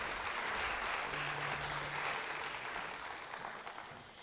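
Audience applause at the CRESCENDO classical music festival in Moldova, a steady dense wash of clapping from a crowd that slowly thins and softens toward the end.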